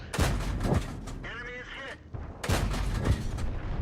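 Heavy cannon blasts from tanks in the World of Tanks video game: two booming shots, close and loud, separated by a brief lull with mechanical whine, over game background noise.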